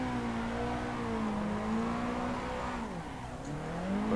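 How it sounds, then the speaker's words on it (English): A drift car in Assetto Corsa sweeps through a fast corner on a night touge-style mountain track, its engine droning steadily with pitch rising and falling as revs shift, and tires hissing faintly underneath. "let's see how this car and its gearing gets around the fast turn"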